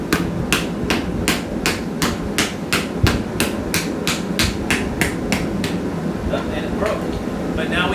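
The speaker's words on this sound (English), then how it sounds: "Start hitting with the ball peen part." A ball peen hammer strikes hot metal being forged into a leaf, about fifteen sharp, evenly spaced ringing blows at close range, then a pause with faint shop noise and a little talk.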